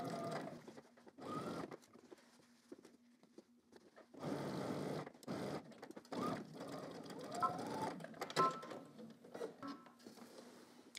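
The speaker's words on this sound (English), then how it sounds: "I'm going to stitch both shoulders down using 5/8 of an inch seam allowance." A sewing machine stitches down the shoulder seams of a shirt made from a Simplicity 9758 pattern, using a 5/8-inch seam allowance. Several bursts of steady mechanical whirring run at close range, broken by short pauses.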